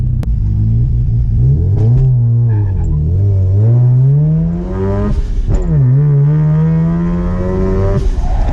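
A modified car sliding under the handbrake while drifting, its engine revving loudly and continuously with pitch rising and dipping as the throttle is worked, close and dominant throughout with no talk.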